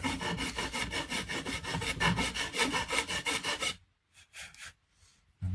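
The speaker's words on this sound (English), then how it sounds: "I'm just filing off the overhang" A cheap fret file rasps back and forth across guitar fret overhang in quick, even strokes, close and distinct, then stops abruptly, leaving a few faint scrapes.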